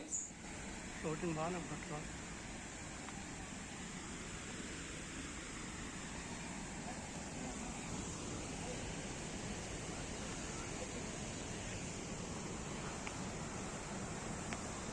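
Steady, dense rushing of water where the Pochera waterfall stream flows over rocks, a constant close roar filling the whole stretch with a brief faint voice near the start.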